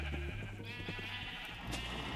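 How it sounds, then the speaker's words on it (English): Sheep in the video game Minecraft bleat with a wavering cry over steady game background music, with no one talking. "I'm farming your sheep, and I'm ethically taking the wool off of them so they don't sweat."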